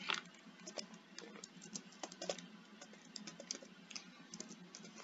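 Steady, soft typing on a computer keyboard while writing JavaScript code, a run of light, close key taps over a constant background hiss, with no voices.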